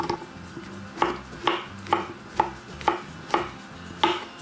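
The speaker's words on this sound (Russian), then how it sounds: "Их надо порезать тонкими пластинками." A knife chops champignon mushrooms into thin slices on a cutting board, making about eight crisp, evenly spaced thuds in a steady rhythm, close and clear with no talking.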